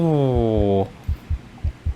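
Green Hell survival game heartbeat: after a short sustained voiced sound, low padded thumps pulse in a regular lub-dub rhythm, close and prominent over a quiet background.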